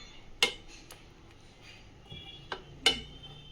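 Prawns being stirred in a pan of butter garlic sauce: a few sharp metal clinks of a utensil striking the pan at irregular intervals over a quiet, faint background.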